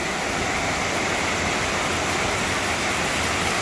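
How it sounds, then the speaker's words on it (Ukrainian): A small waterfall in the Carpathian mountains, seen on a rainy ride, gives off a loud, continuous rushing roar of falling water, steady and close with no other sounds. "цього водоспадика ніколи і не бачив"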